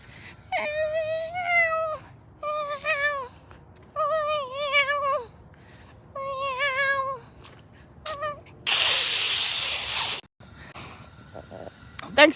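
A woman imitates a cat with her voice, producing four drawn-out, wavering meows in a row, fairly close and clear, followed by a brief burst of noise and some faint clicks.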